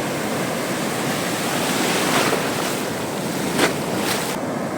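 Rough sea waves roar continuously in a loud, unbroken wash off the Konkan coast during sea fishing, with gusts of wind buffeting the microphone.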